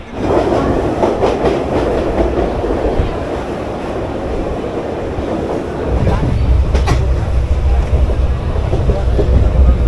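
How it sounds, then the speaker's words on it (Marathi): A Mangaluru Express train rumbles steadily along the tracks from Mumbai toward Thane, a loud continuous roar with faint rhythmic clatter that swells louder in the second half. "फायनली म्हणजे ट्रेन सुटलेली आहे"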